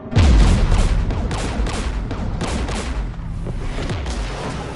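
Incoming gunfire in Mass Effect 3: a loud, dense barrage of repeated shots and impacts that runs throughout with a heavy thump at the start.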